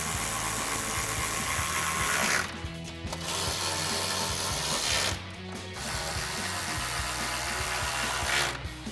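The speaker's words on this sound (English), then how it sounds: "we're gonna grab our 10mm socket on our ratchet and tighten these down." A 10mm socket on a ratchet tightens the headlight bolts of a 2010-2018 RAM 2500 truck. Rapid, loud ratcheting clicks run almost continuously, with two brief pauses between strokes.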